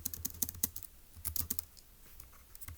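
Quick typing on a computer keyboard, irregular clusters of crisp key clicks with short pauses between bursts, close and fairly quiet with no voices.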